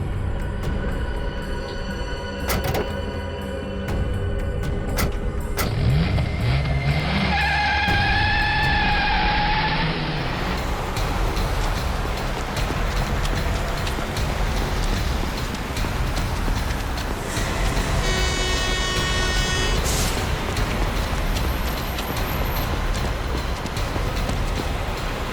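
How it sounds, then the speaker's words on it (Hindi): Vehicle noise of a car pushed hard during a frantic jungle escape, a steady loud rumbling drive with rattling and clattering over rough ground, continuous and without speech. "अबे गाड़ी भगा, तेज चला।"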